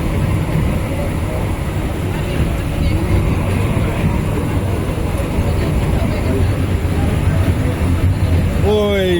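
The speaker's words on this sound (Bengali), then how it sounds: "খুব সম্ভবত তিস্তা এক্সপ্রেস ঢাকা যাইতেছে" The Tista Express pulls out of the station bound for Dhaka, a steady heavy rolling rumble close by that fills the whole stretch without a break.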